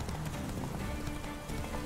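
A panicked horse gallops in The Witcher 3, rapid clip-clop hoofbeats pounding close and steady for a couple of seconds.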